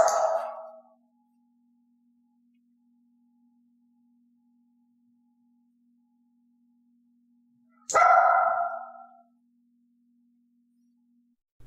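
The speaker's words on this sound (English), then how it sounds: "offered bark ranged from a low growl to a quiet bark to a loud piercing bark." Two separate dog barks, each a short loud burst about eight seconds apart, from a dog named Elaine offering a bark on cue during clicker training, with a faint steady tone in between.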